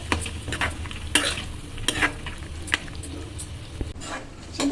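Tamarind pulp cooks down in a pan for pulihora, with a steady sizzle beneath repeated scraping stirs of a spoon, close and fairly loud, no voices.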